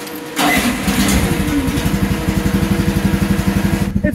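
A Chinese mini excavator engine, choked, cranks and catches, then settles into a loud, close, rhythmic chugging idle with a steady pulsing beat.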